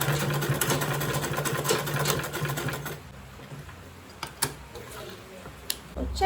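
A sewing machine runs steadily, stitching the lining of a fancy makeup bag with zipper and boxed corners, a fast close mechanical whir for about three seconds, then stops, leaving quiet handling clicks and rustles.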